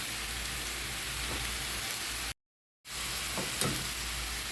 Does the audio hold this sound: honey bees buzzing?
no